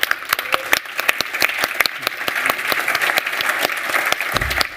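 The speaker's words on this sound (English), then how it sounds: "Give them a round of applause" An audience at the Codegarden 2022 conference applauds guests arriving on stage, with sustained dense clapping from a crowd, loud and close, holding steady throughout.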